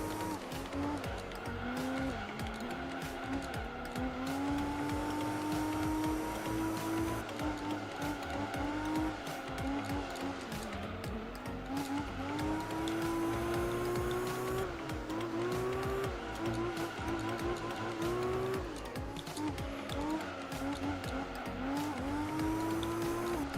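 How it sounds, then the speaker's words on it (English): A race car engine in Gran Turismo 3 revs continuously, rising and falling through gear changes, with occasional tire squeals; steady and loud throughout. "I like the sound of this car."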